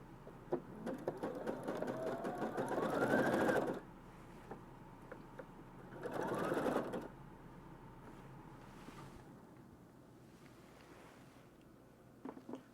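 A sewing machine zigzag stitching a repair on a pair of pants: two bursts of whirring motor and rapid needle chatter, one a few seconds long and a shorter one, separated by quieter handling sounds, close and moderately quiet.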